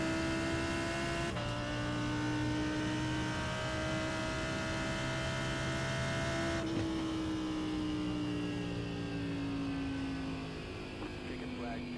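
A Lamborghini Huracan GT3 racing at Imola in a sim racing game, its engine a steady droning tone that drops in pitch through the gears with two sharp shift breaks. A voice is faintly present underneath.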